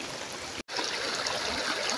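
Strong water rushes at Banahaw Water Spring in Merida, Leyte, a close, continuous broadband gush with a brief dropout early on, then steady flow with no voices.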